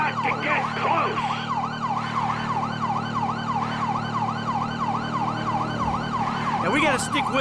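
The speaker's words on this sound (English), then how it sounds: "I don't think they can hear the sirens." Police sirens from a Grand Theft Auto V pursuit wail in rapid repeating sweeps over a steady engine rumble, loud and close, with a brief burst of noise near the end.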